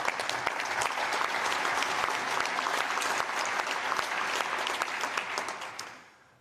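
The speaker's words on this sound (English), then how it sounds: "a big applause for the heroes from the first hour" Sustained applause from the audience at the World Boxing inaugural congress, dense and steady with scattered sharper claps, holding level for about six seconds before fading out at the end.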